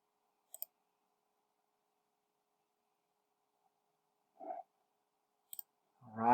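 Computer mouse clicking a search button on a travel booking website: two brief, sharp double clicks several seconds apart, faint and close, among near silence with a few soft stray noises.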